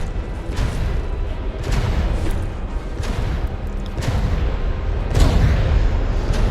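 Battleship guns fire in a naval video game, loud deep booms repeating every second or so over a dense rumbling din, the heaviest blast near the end.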